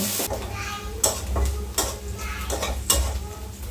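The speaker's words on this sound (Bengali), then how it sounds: "এখন পেঁয়াজ কাঁচামরিচ একটু ভেজে নিব।" Chopped onion and green chillies fry with a soft sizzle, with occasional stirring scrapes and clinks of a utensil against a pan, steady and close.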